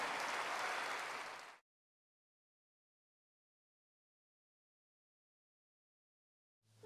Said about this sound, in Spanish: So let's give the Lord an applause.